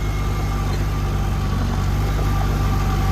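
A vintage tractor engine at a plow day, running steady and loud with a deep low throb and constant rumble, revving up slightly across a few seconds; no talking.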